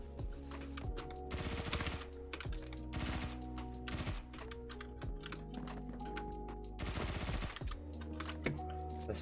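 Rapid bursts of 10mm SMG fire in the video game Phantom Forces, sharp clipped volleys repeating in close-range fights with short pauses between, loud and dry with no talk over them.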